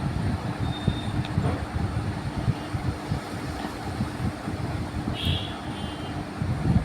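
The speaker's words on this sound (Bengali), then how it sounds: "ব্যান্ডেল স্টেশনে চলেও এসেছি, আবারও ওয়েট করছি চন্দননগর যাব বলে" At Bandel railway station a train rumbles steadily nearby, a low continuous rolling roar with faint higher squeals and clanks over the top.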